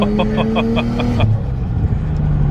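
A lifted Chevrolet Silverado truck on 35-inch tires drones loudly from inside the cab, with rhythmic whooshing pulses of turbo noise for the first second over a steady engine rumble.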